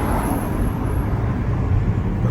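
Busy road traffic in an area near Croydon in the UK makes a steady, dense rumble of passing cars close by, continuous throughout with no talk.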